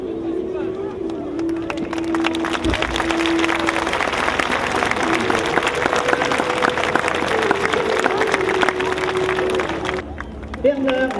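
Audience at a Breton horse night event in Landivisiau applauding a dancer after a wedding-scene dance, sustained dense clapping with crowd noise and a voice over it, close and loud.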